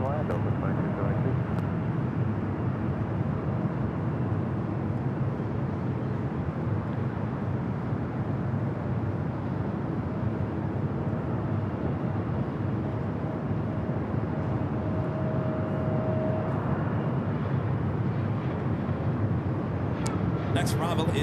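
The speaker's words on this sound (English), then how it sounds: "Next arrival is Delta Flight 2272 coming up from SFO at 737-800." A Delta Boeing 737-800 landing on runway 24 right at LAX, heard as a steady, broad jet engine roar that holds for the whole stretch, with talk running over it.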